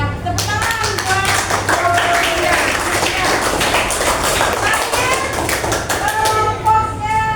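Schoolchildren in a classroom clap their hands for a group during a student council election activity, quick uneven hand claps and taps continuing steadily, with children's voices and an adult talking over the clapping.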